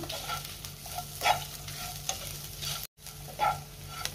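Eggplant and other vegetables being stirred and sautéed in a pan for a vanga bhaji, with a steady close-up sizzle broken by scraping spoon strokes and a very brief gap of silence near the end.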